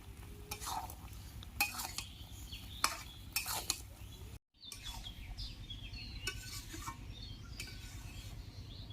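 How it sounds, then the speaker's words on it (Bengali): Jujube pickle with cane jaggery is stirred in a pan, repeated clanks and scrapes of a utensil against metal over a low, soft sizzle, with one brief dropout in the middle. "ভালো করে নাড়িয়ে নেব।"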